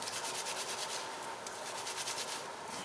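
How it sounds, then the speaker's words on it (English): Shampoo gets rubbed vigorously between wet hands, a close, steady, soft hiss of friction with quick rhythmic strokes that continues the whole time, with no voices. "You rub it in your hands really, really good, and then you apply it to their hair."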